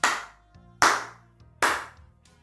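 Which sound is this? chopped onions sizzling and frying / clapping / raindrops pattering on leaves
clapping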